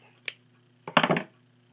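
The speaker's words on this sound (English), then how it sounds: "you're just going to grab your scissors and just trim all of them" Scissors snip rubber loom bands, one quick cut followed by a short burst of several rapid snips, close and crisp in a quiet room.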